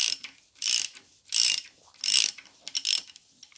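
A ratchet wrench clicks in five quick bursts, turned clockwise to loosen left-hand thread big end bearing nuts on a BMW 116i, each burst a close, bright rapid ratcheting separated by short pauses.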